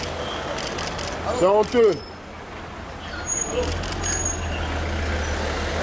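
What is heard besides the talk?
SAMU emergency trucks passing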